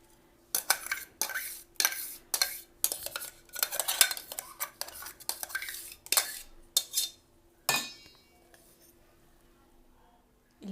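Ground tomato paste being scraped into a bowl with metal utensils for a Telugu tomato pickle: a series of sharp clinks and scrapes of spoon on bowl in uneven bursts, close and fairly loud, with a pause near the end.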